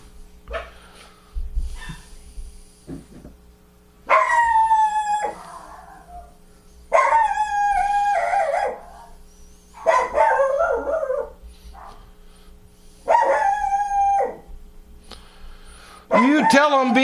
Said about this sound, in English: You tell that fucking dog.